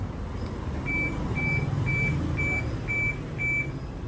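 A Honda Brio's OEM key fob lock chime repeats six times at an even pace, clear and fairly close, over a steady low rumble of background noise.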